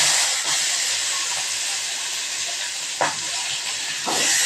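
Whole spices such as fennel, cumin and cloves sputter in hot oil with small shallots sautéing for a kurma side dish, a steady loud hiss with a couple of brief crackling bursts and no talking.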